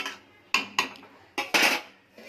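A lid set onto a cooking pot of chicken curry with potatoes, several sharp close metallic clanks and rattles in quick succession, with no talking.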